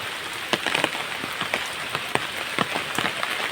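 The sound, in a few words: heavy rain falling in a village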